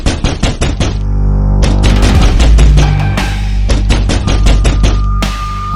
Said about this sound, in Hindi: आखिर इतनी तेज गेट पीट कौन रहा है?